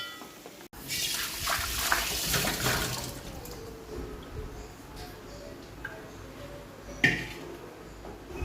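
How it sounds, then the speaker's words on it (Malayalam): Water is poured into a pot of papaya curry in a short splashing trickle, followed by quieter kitchen clinks and a sharp knock, with no one speaking. "അപ്പോൾ ഞാനൊരു ഇച്ചിരി വെള്ളം ഒഴിക്കുന്നതാണ്"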